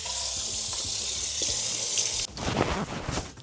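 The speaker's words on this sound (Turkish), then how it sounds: "Yüzümü yıkayayım." Tap water runs steadily into a sink during face washing, a bright continuous stream that breaks into closer, irregular splashing and hand-scooping sounds partway through.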